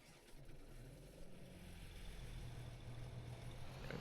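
Loud tractor engine droning steadily in Farming Simulator 22, a continuous low rumble with slight rises in pitch, close and constant throughout.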